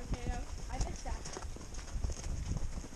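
Horse hooves clip-clopping steadily as a horse is ridden across a jumping field, fairly close, with people talking over the hoofbeats.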